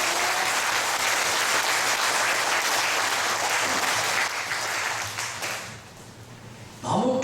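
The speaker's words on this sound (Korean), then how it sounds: "그렇게 이해가 되면 한번 크게 박수 한번 쳐볼까요?" Loud, dense audience applause at a 2009 church discipleship college graduation ceremony, steady for several seconds before thinning out and giving way to a voice.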